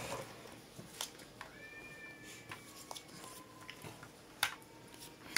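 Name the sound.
cats meowing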